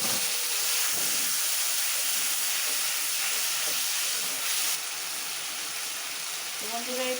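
Spices fry in oil in a pan with a little water added, giving a loud, steady, close hiss that carries unbroken throughout.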